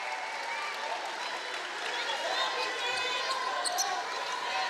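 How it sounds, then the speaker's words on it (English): Crowd noise builds in an arena during a women's college basketball tournament game between Saint Joseph's and Richmond, a diffuse murmur with some scattered claps and sneaker squeaks, with commentators' voices faint underneath. "you can kind of hear the crowd starting, getting into the game a little bit here"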